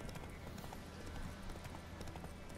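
Horse hooves clip-clop steadily in The Witcher 3 game, a continuous rhythmic trot at moderate loudness over a busy, dense game soundscape.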